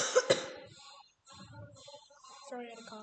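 A person coughs twice in quick succession, close and fairly loud, followed by a short pause and then ongoing game sounds and murmuring voices.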